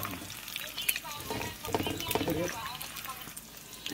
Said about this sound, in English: Uy, sunny side up lang tayo today mga Jai